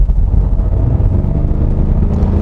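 A 2020 Kia Mohave V6 diesel SUV engine with active sound design drones steadily at close range on a winding road, a low, thick rumble with no voices over it.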